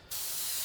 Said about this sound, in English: Is it going to bother you if I'm airbrushing right next to you?